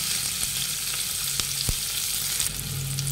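Curry leaves and onion fry in hot oil with mustard seeds, cumin and ajwain, giving a steady, close sizzle broken by a few small pops and a faint stirring scrape. No speech.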